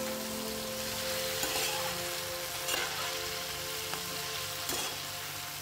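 Chicken meat frying in a pan while being stirred, a steady soft sizzle with occasional light scraping knocks of the spoon against the pan.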